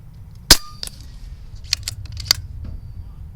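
Airgun shots fired at a shooting range for 50 and 100 yard testing: one sharp loud crack early, then several fainter snapping impacts or clicks spread over a few seconds, with no talk.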